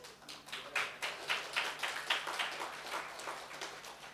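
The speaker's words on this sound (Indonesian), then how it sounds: "Tepuk tangan kok cepat sekali." A church congregation claps in a brief, rhythmic burst of hand claps that swells and then tapers off, moderately loud in a reverberant room.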